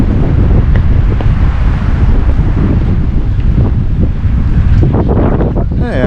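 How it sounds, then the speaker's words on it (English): Strong wind buffets the microphone at an exposed lakeside campsite, a loud, roaring, gusty rush that fills the whole stretch with low rumbling and no voices heard. "The wind is about to pick up when we round this corner."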